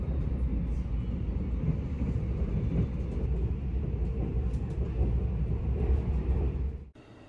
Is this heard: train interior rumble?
yes